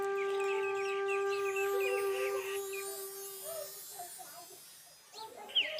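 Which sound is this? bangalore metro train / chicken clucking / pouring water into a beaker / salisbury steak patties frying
chicken clucking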